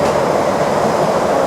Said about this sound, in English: Speaking of monorail.